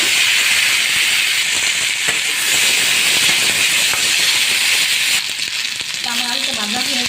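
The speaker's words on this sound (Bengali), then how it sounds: "ওই তেলে আমি আলুগুলো ভেজে নেব।" Potatoes frying in hot oil in a home kitchen, cooked right after fish in the same oil, give a loud, steady hiss and sizzle that runs throughout without a break.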